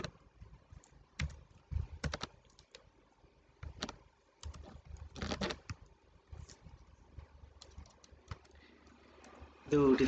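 Computer keyboard typing JavaScript code, with bursts of close key clicks and pauses between them, heard under a quiet voice talking.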